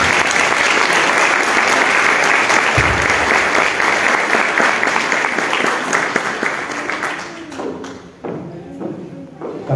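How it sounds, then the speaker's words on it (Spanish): A large audience at a formal commemorative ceremony gives an honoree a loud, dense ovation of sustained clapping that fades and breaks into scattered claps near the end. "Fuerte la aplauso."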